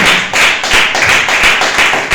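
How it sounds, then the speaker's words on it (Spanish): Loud rhythmic clapping from a church congregation in a steady beat, many hands together close by with no talking. "Dale un fuerte aplauso al Espíritu Santo de la vida."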